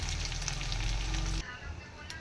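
Hot oil sizzles in a pressure cooker with a dense, steady hiss that drops to a quieter sizzle partway through, heard close up with no talk.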